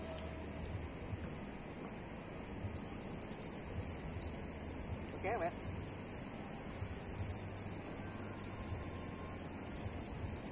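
Rain falls steadily during a fishing trip in Vietnam, a dense continuous patter on surfaces with faint insect chirping, and a brief sharp tap partway through.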